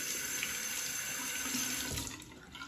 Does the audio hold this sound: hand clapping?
no